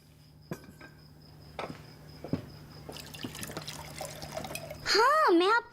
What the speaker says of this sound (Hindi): एलिफ पानी देना जरा।